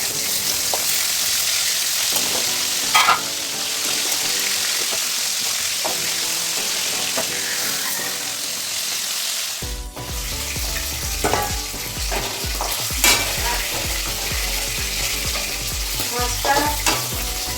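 Salted stingray pieces coated in gram flour and raw oil fry in hot oil with a loud, steady, close sizzle, occasional spits and stirring scrapes breaking through the dense crackle.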